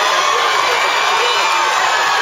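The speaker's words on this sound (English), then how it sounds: "So let's clap our first runner in." Spectators cheering and whooping for runners finishing the Front Street Mile road race in Bermuda, a loud continuous outdoor crowd roar that holds steady throughout.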